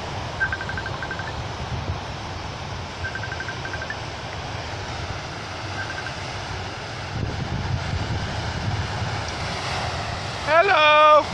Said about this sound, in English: Oh, look at that wave.